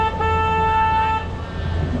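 A horn on a ship-shaped tour boat on the San Antonio River Walk gives one sustained, steady toot lasting about a second, loud and close, over a low rumble of motor and ambient noise.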